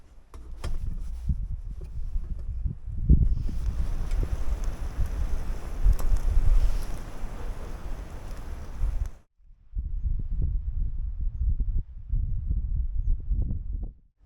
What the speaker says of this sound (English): The wind is pretty crazy this morning